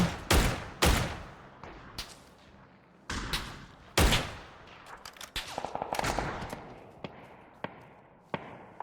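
Dragunov sniper rifle gunfire in PUBG, sharp cracking shots arriving one at a time at irregular intervals, several loud and close, others fainter, with a brief tonal ring in between.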